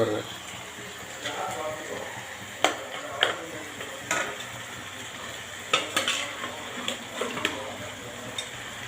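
Marinated country chicken for a semi gravy is tipped into a pan and stirred, with repeated sharp clinks and scrapes of a spoon against the pan over a soft sizzle, while a person talks.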